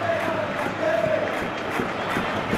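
A stadium crowd in a PES 2021 football match, Real Madrid against Manchester City, applauds and cheers as a steady, dense roar that holds at an even loudness throughout.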